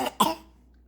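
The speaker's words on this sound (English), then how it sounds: "Is that your cough?" A child gives two short, close coughs in quick succession, the second one stronger, followed by quiet.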